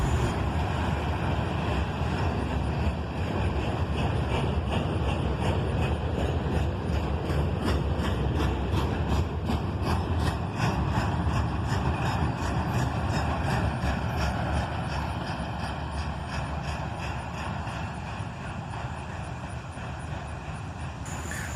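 Chessie System freight train with modified gondolas rolling past outdoors, a loud, steady rumble with rhythmic clanking of wheels over rail joints throughout, easing slightly toward the end.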